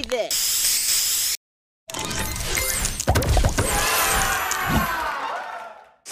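Spray power-up in the arcade game Cosmic Rush hisses in loud bursts, a short spray, a brief silence, then a longer sweeping hiss mixed with chaotic game effects that fades out at the end.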